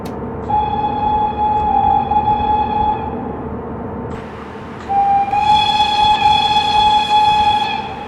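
Whistle of a DB BR110 electric locomotive in a train simulator game, a loud steady high-pitched tone sounding twice, sustained for several seconds each time, over rumbling running noise of the train.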